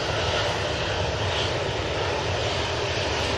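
Hainan Airlines Airbus A330 landing, a dense, unbroken engine roar at close to moderate range, loud and steady for the whole stretch with no voices.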